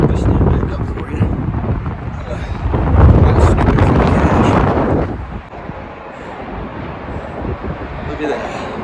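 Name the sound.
strong wind blowing on a rock face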